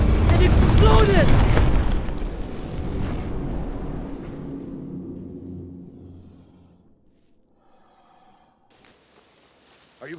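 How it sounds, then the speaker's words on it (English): A toy exploding in a film soundtrack, heard as a loud, close rumbling blast that decays slowly over several seconds into near silence, with faint sounds trailing at the end. "I picked it up. And it exploded!"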